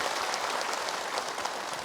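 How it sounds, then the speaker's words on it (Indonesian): A studio audience of women applauds on an Indonesian morning religious TV programme, a dense, steady wash of many hands clapping close by for the whole stretch, with no voices over it. "Boleh tepuk tangan."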